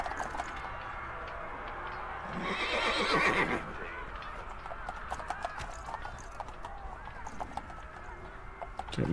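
Horses neigh and whinny with clip-clopping hooves in the video game Fallout London, a loud whinny rising briefly over ongoing game ambience and scattered hoof sounds, with someone talking around it.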